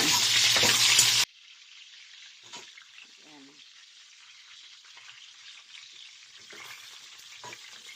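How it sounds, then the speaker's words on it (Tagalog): Pork leg sizzles in a frying pan as it browns to a reddish colour: a loud burst of crackling frying at the start, then a steadier, quieter hiss of oil with occasional soft stirring noises. "I-fry ko lang ng mapula-pula para ilagay ko na ang mga dry ingredients ko"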